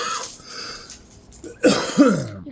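A person coughing and clearing their throat indoors during a card unboxing, a couple of short, close, harsh bursts near the end after a quieter stretch.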